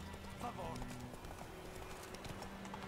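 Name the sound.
horse galloping in video game The Witcher 3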